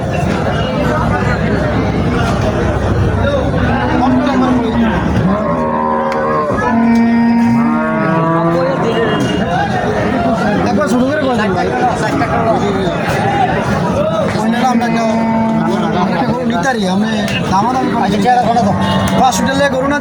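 Sahiwal cattle at the Mainamati cattle market moo loudly several times in long drawn calls, over a constant crowd hubbub with people talking nearby.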